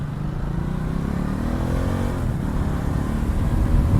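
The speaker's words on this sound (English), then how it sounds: "The engine sound on this thing is really growly" A Ducati Multistrada 1260 base model from 2020 runs with a steady, growly engine drone heard from the rider's position, constant and fairly loud with a slight rise near the end and no voices.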